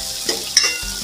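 Onion sautéing in hot oil in a pan for Malvani-style kulith pithi, with a few brief stirring scrapes over a steady soft sizzle; no one speaks.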